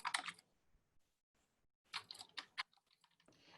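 Typing on a computer keyboard, a quiet room with bursts of rapid clicky keystrokes separated by pauses, close and fairly soft with no talking.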